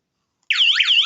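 A Tuya Smart SR5 alarm system siren kicks in abruptly after a silent moment, a loud, close, rapidly warbling electronic wail sweeping up and down in repeated cycles.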